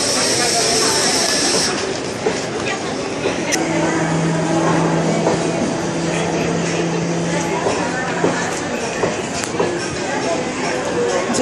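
A Mumbai suburban train at a platform rumbles and hisses steadily in a busy station, with a few brief squeals and clanks over continuous crowd noise and chatter.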